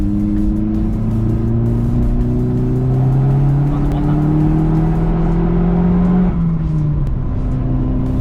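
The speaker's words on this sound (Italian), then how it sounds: "il turbo lo senti vero dai 3000" An Opel Corsa OPC engine pulls hard and loud, its pitch climbing steadily through the revs with a turbo whir from around 3000 rpm, then briefly dropping, with a short spoken word over it.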